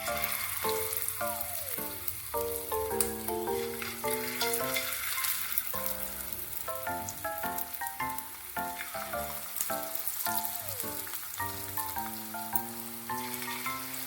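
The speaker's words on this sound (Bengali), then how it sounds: "এবার একটা একটা করে কর্নফ্লাওয়ার দিয়ে মেখে রাখা চিকেনগুলো তেলে দিয়ে ভেজে নেব।" Cornflour-coated chicken pieces frying in hot mustard oil in a kadai for chili chicken, a dense, continuous close sizzle running throughout with music playing over it.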